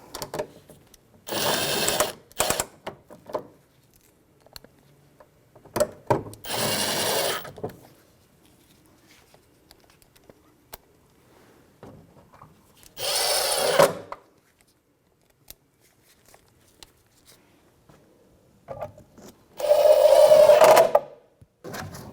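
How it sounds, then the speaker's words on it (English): A power screwdriver drives screws to mount the inner fender liner on a 2011-2017 Honda Odyssey, four loud whirring bursts of a second or two each, separated by quiet pauses with faint handling clicks. "Now we can grab our 5 screws and mount those across."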